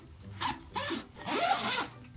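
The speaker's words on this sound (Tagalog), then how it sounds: "And maganda yung zipper nito." The zipper on a school backpack is drawn open or shut in three quick rasping strokes, close and distinct. The last stroke is the longest.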